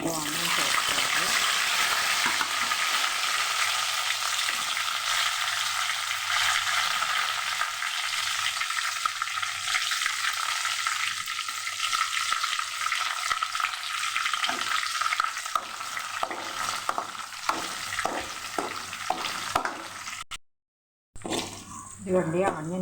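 Dried red chillies and onions frying in a pan, a loud, sustained crackling sizzle with stirring scrapes running throughout, briefly cutting out near the end before resuming.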